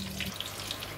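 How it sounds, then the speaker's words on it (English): Plum sauce mix simmering in a heated pan for fried fish makes a steady close bubbling sizzle, short and fairly quiet, with no voices. "Okay, plum sauce is cooking."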